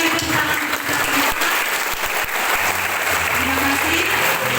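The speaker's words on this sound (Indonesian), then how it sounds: "kami kasih lagi tepuk tangan untuk kita semua" A congregation at a year-end church service and Christmas reflection claps in loud, continuous applause, with faint background murmurs beneath.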